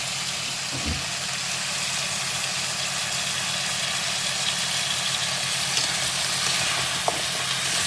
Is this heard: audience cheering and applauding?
no